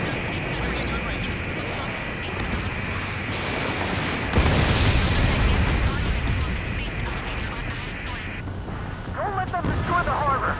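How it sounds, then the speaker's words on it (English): Heavy gunfire and explosions in an Ace Combat 7 harbor battle rumble continuously with deep booms and crackling blasts, swelling louder midway, while radio voices talk over the din. "The harbor's under heavy fire!"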